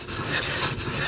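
A Benchmade 940 Osborne knife blade being sharpened on water stones: steady, close, gritty rasping strokes in a smooth back-and-forth rhythm, with no talking.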